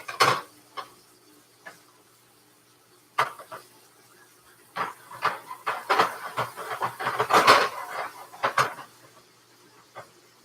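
Frog legs being stirred in a pan while frying: scattered scraping and clinking of a utensil against the pan, getting busier midway, over a faint sizzle.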